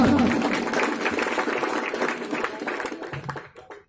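Audience at an Urdu mushaira breaks into dense, sustained applause that holds steady for several seconds before thinning out and stopping abruptly at the end.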